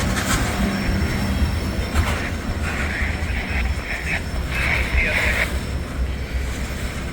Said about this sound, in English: The front of the train's probably hit almost to Erlanger at this point